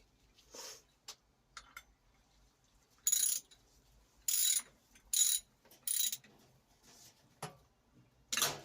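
A Draper ratchet wrench turning 17mm bolts while fitting a chain and sprocket kit to a 1983 Yamaha RS125 DX, giving short bursts of crisp ratcheting clicks separated by pauses, close and fairly loud.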